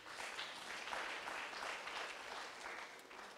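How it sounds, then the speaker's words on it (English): A conference audience at Uganda Christian University applauds, a steady, even patter of many hands clapping throughout, fairly quiet and somewhat distant in the hall, with no talk over it. "Please, let's give him an applause again"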